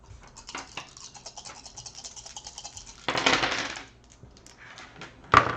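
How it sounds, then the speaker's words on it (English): Four dice rattle and clatter onto a tabletop during a Street Fighter miniatures game, a soft scatter early on, then a loud burst of tumbling dice and a final sharp click near the end. "So I'm going to roll 4 dice on this one."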